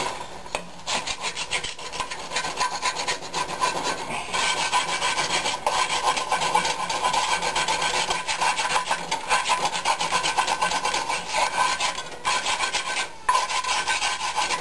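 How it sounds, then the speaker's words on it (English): A wooden scraper rasps along the sides of a cast iron pan in steady, continuous scraping strokes, close and fairly loud, with no talking. "if you got any along the edges, you scrape it along this way"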